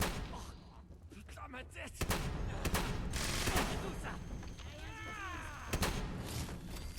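Shotgun blasts in the video game Fallout 76, several sharp booming shots spaced a few seconds apart, mixed with game noise while someone talks in French.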